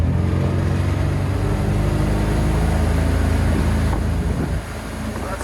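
Loud, steady roar of a Bayliner 245 boat's MerCruiser 5.7L engine with Bravo III drive accelerating onto plane, wind and water rush filling the sound before the engine note eases slightly near the end.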